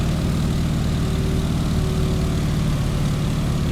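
Stearman biplane's radial engine and propeller at cruise power in Microsoft Flight, a steady, loud, continuous drone with a deep throbbing low end, holding unchanged throughout with no talk.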